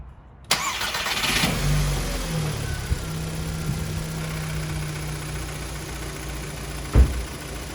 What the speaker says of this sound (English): we're gonna crank it up and see